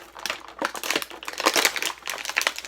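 Stiff plastic packaging around a Marvel Select Sabertooth action figure crinkling and crackling in quick, irregular bursts as it is handled close up, with no talking.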